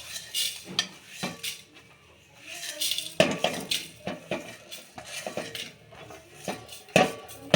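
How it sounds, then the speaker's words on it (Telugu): Spices for a Telugu-style boti (goat tripe) curry are dry-roasted one at a time in a pan, with a spoon clinking and scraping against the metal in irregular bursts, fairly close and without talk. "1 by 1 అన్నీ వేపుతాను."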